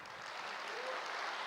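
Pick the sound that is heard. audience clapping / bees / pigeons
audience clapping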